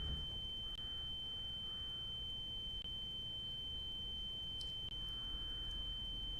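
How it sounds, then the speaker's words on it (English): A steady, high-pitched ringing tone like ringing in the ears holds unbroken throughout, sitting above a low rumbling background with faint scattered sounds. "with the ringing and the crows cawing, it sounds like one of those old like dial-up connections"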